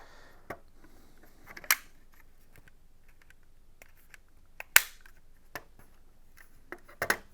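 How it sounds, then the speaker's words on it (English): Whirlpool washing machine display PCB pressed down onto its housing tabs, giving a handful of faint, sharp, scattered clicks in a quiet room. "simply lay it up on top of all the tabs, then push down very gently until each one is locked into position"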